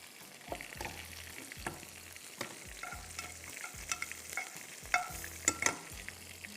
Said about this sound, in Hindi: एक टेबलस्पून आप गार्लिक फ्राई करेंगे,